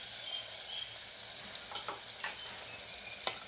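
Ground masala paste is stirred into a Malvani fish curry in a pan over medium heat, a soft continuous sizzle with light scraping strokes and a faint tick of the spoon.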